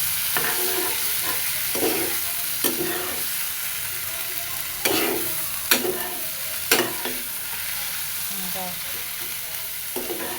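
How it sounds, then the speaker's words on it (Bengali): Fish pieces and fish roe frying in a pan, a loud steady sizzle broken by repeated scraping stirs and spatula knocks, no speech. "এটাও ভালো মতো ভাজা হবে, সেই সাথে মাছের ডিমটাও ভাজা হবে।"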